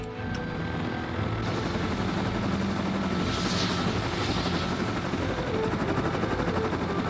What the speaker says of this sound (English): let's buy a heli and fly home